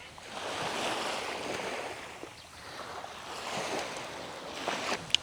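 Waves washing onto a mossy, littered beach in Bacolod that is not white sand, a steady surf wash rising and falling with wind across the microphone, no voices.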